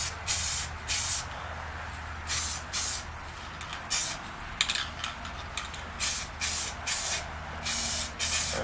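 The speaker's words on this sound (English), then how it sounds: "Ideally, you want to be able to get in all the corners and crevices without too much overspray." Aerosol spray paint can spraying Mustang headlight buckets in short, sharp hissing bursts, about a dozen separate blasts at an uneven pace over a low background hum.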